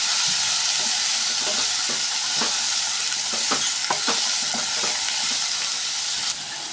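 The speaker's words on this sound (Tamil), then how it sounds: "இதோடு சேர்த்து நல்லா கலந்து விட்டுக்கலாம். கொஞ்சம் வதங்கணும்." Onions and cluster beans stirred and sautéed together in a pan, a broad hissing sizzle with a series of soft scraping strokes in the middle, close and steady, no talk.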